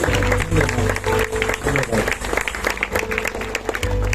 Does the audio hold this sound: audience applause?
yes